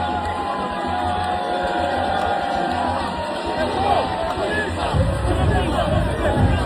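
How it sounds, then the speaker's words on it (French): Stadium crowd at the Africa Cup of Nations cheering and clapping for a DR Congo football supporter, a dense roar of many voices and applause that swells louder near the end, with voices chattering throughout. "sous les applaudissements de la foule"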